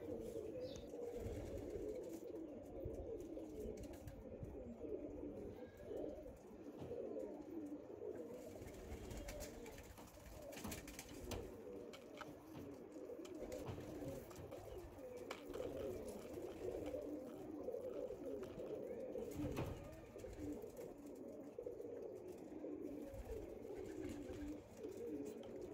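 Lambadi pigeons coo softly in a loft, low murmuring calls overlapping continuously and faint, with occasional wing flutters and no talk.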